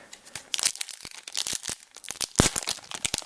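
Foil wrapping of a Top Gear Turbo Challenge trading card pack rips and crinkles in quick bursts of sharp, close tearing and crumpling, with no voices.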